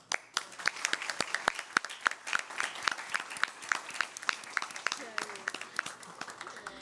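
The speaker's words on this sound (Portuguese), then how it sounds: "Eu quero uma salva de palmas" Scattered applause at a youth parliament closing ceremony in Sorocaba: distinct, fairly quiet individual claps from a small group in a steady patter, with faint voices toward the end.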